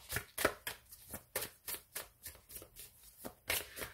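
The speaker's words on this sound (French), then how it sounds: "Allez, on va conclure avec une carte oracle de l'esprit des cristaux." Oracle cards being shuffled and drawn, a steady run of soft, rhythmic riffling slaps, each quick papery burst evenly spaced and close, with no voice over them.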